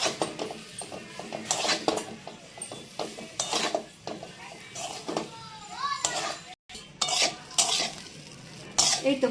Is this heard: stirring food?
yes